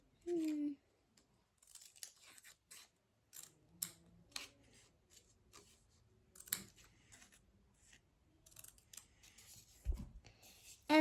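Scissors cut parts of a cardboard toilet paper roll for a kids' craft, producing quiet, close snips and crinkly cardboard sounds in irregular bursts, with a voice speaking briefly at the start.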